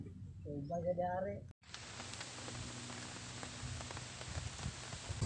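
Steady rain patters on a small shelter roof on a farm, a dense even hiss filling the clip after a brief speaking voice at the start and a short gap.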